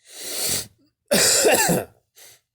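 A single sharp cough up close, preceded by a short breathy intake and followed by a faint trailing exhale.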